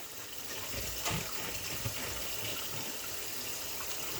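Steady running water pours continuously from a tap, with a few faint knocks.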